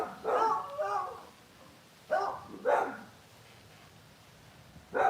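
A dog barks outdoors in several separate bursts: a quick double bark, then two more a second apart, and a last one near the end, fairly close and distinct over quiet surroundings.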